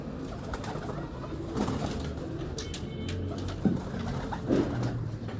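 Pigeons coo in short soft bursts, a few isolated murmurs scattered over a quiet steady background, faint and without speech.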